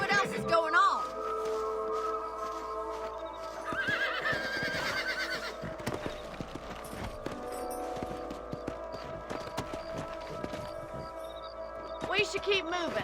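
Horses neighing and whinnying in a Western video game, with hoofbeats and game ambience and people talking over it throughout.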